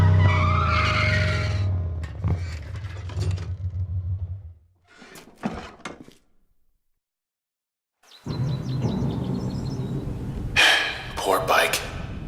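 In the video game Transistor, a motorbike skids and crashes with a harsh tire-squeal burst, then falls silent before noisy clatter and impacts return, with voices over parts of it.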